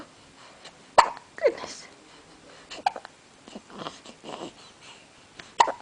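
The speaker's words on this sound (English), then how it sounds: "We have the hiccups." Repeated hiccups from a wide-awake baby, sharp and close, spaced irregularly across the moment while an adult speaks softly in between.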